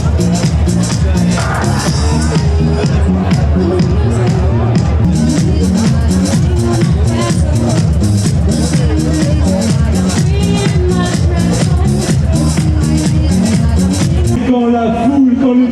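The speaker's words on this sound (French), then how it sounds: "quand la foule, quand le public s'agite, vous l'avez compris, cela annonce l'arrivée imminente" Spectators lining the course of the Paris waiters' race (Course des Garçons de Café) make a steady crowd hubbub of chatter and cheering, dense and continuous throughout, with music or commentary mixed in.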